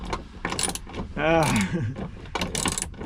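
Spanner tightening a bolt while a swivel seat is installed in an Iveco Daily van, a run of quick ratcheting clicks in short bursts, close up, with a voice briefly heard in the middle.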